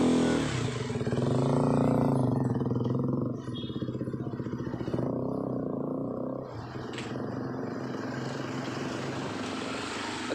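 KTM Duke 200 motorcycle fitted with an F2Racing big-volume carbon exhaust, revving loudly up close, the engine rising in a throaty burst then dropping back to a rumbling idle.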